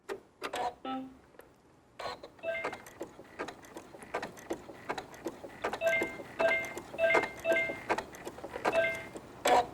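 A sewing machine stitches a Kimberbell pillow with a narrowing satin stitch width, giving short repeated whirring bursts with small clicks and pauses between them, close and moderately loud, with no talk.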